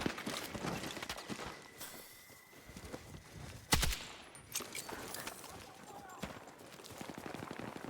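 An M240L machine gun fires in Battlefield 6 in short, uneven bursts mixed with footstep-like thuds and one sharp loud crack, all under someone talking.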